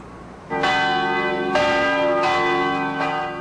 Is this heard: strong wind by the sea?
no